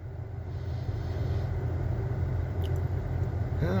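Steady road traffic with cars rolling past continuously, a constant low rumble throughout and no distinct single pass-by, heard from a roadside in Anne Arundel County, Maryland.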